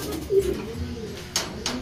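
Pigeons cooing softly close by, low throaty coos repeating over a faint background hum, with a few brief rustles and no talk.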